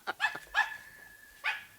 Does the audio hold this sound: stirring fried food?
no